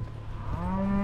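Cattle lowing during a long cattle drive in remote Montana, a single drawn-out moo rising in pitch and swelling louder toward the end, close by and clear with no talk over it.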